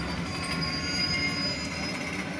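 Old street car wheels roll steadily on the rails with a constant metallic rumble and faint squealing, no voices, at Cincinnati Museum Center at Union Terminal.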